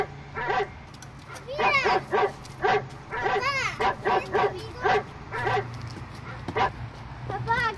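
A dog barks repeatedly in quick, uneven bursts, mixing sharp yips with short whimpering barks, loud and close, across several seconds.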